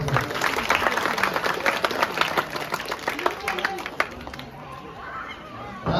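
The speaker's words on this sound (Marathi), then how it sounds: "ग्रामस्थ मंडळातर्फे सर्वांनी टाळ्या वाजवून जोरदार स्वागत केलं." Villagers clap to welcome a guest at a lively village Paithani game event in Tawaripada, the scattered applause close and fairly loud at first, then thinning out, with crowd chatter and voices mixed in.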